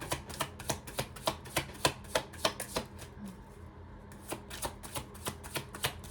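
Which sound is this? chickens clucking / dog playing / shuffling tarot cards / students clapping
shuffling tarot cards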